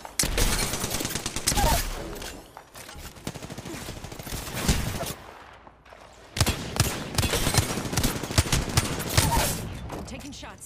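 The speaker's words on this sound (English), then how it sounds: "Getting shot at." Dense automatic gunfire in the video game Apex Legends rattles in loud, continuous bursts with a brief lull midway, close and intense.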